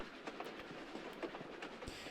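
A train in Tomb Raider: The Last Revelation rumbles steadily along with a rhythmic clickety-clack of wheels on rails, a low, continuous background rolling heard without speech.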